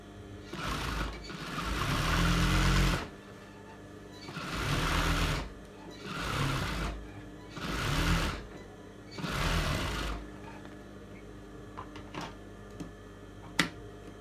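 Sewing machine running in four bursts of stitching as a second line of stitches goes over folded fabric on a pair of shorts, each run whirring steadily for about a second or two, with brief pauses and small clicks between.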